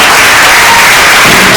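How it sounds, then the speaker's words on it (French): Audience applause in a Congolese theatre, a steady dense wash of clapping that stays loud and even for the whole short stretch, with no voices on top. "Applaudissez très fort."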